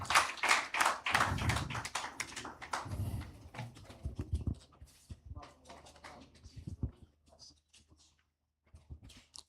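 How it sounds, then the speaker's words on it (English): Conference audience gives a round of applause, loose scattered clapping that starts fairly strong then thins out and fades to a few faint claps, with some murmuring in the room. "Please, a round of applause for him."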